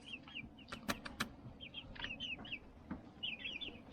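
Young chicks cluck and peep in an outdoor chicken run, a scatter of short high chirps and soft clucks with a few sharper taps, fairly quiet and close, no voices.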